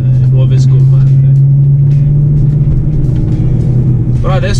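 A BMW M3 with its exhaust valves open rumbles loudly and steadily up close, a deep continuous drone that holds throughout.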